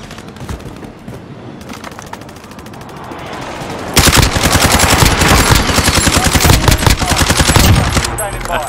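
Rapid automatic gunfire in the Call of Duty Warzone video game, dense loud bursts that intensify sharply midway and continue as a sustained close volley.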